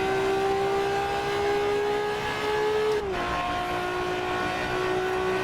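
Ferrari F50 engine at full revs in the racing game Assetto Corsa, a loud sustained high-pitched wail that drops sharply at an upshift midway, then climbs again, heard alone.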